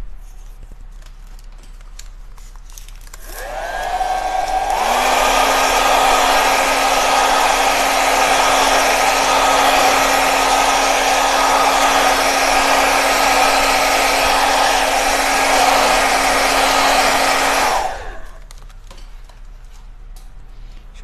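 A hair dryer blows on a decorated craft box, starting up with a rising whine and then running steadily at full power for about thirteen seconds before switching off, loud and close with no talk.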